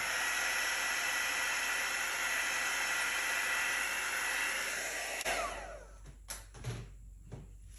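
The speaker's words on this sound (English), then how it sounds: "So I'm just going to hit it with the heat embossing tool again." A heat embossing tool blows hot air over wet orange fluid acrylic paint in a swipe pour, a loud steady whoosh for about five seconds that cuts off abruptly, followed by a few light knocks and clunks.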